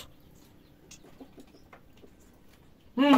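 Fat chickens being fed cluck softly and intermittently at a distance, a faint, scattered stream of short calls, before a sudden loud burst of sound right at the end.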